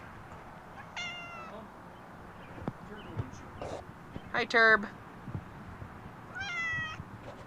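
A cat meows several times, short plaintive calls spaced apart, with a person speaking briefly and quiet background noise.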